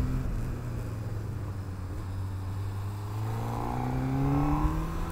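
An inline-four Honda Hornet CB600F motorcycle engine revs steadily, its whining pitch climbing smoothly and growing louder over several seconds, close and continuous.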